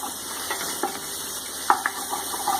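Garlic sizzles steadily in hot oil in a pan while a spoon stirs it, making light scraping taps over the constant frying hiss, close up with no talking.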